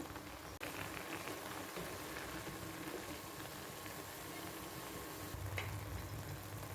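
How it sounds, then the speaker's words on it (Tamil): Beetroot pachadi bubbles in a pot on the stove, a steady, faint simmering hiss and low burble running continuously with no talking. "ஓரளவுக்கு நல்லா பாயில் ஆயிடுச்சு"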